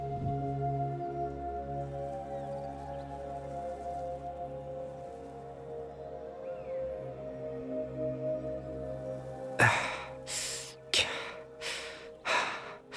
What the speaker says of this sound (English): Why is he panting?